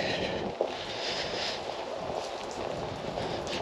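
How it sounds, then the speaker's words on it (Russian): Icy wind buffets the microphone outdoors at a Crimean tulip garden in spring, a steady, loud broadband rush with no speech. "друзья, ветер ледяной"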